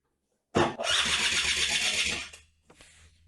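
A Genuine Buddy 50 scooter's engine is cranked and fires up, giving a sudden loud, buzzy roar that holds for about two seconds. It then dies away, followed by a faint rattle.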